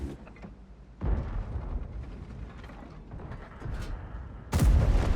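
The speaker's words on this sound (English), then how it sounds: "I shoot the Ferdy over the E5 because I want the damage" Tank cannon fire in World of Tanks: a heavy booming shot rings out, followed by a stretch of rumbling battle noise, then a second loud blast at the end.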